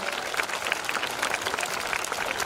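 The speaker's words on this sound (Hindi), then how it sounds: "इनके लिए मैं आपसे जोरदार तालियों का निवेदन करूंगा" A large audience at a school cultural event applauds the children's dance performance, with a thick, even roar of clapping that stays dense throughout.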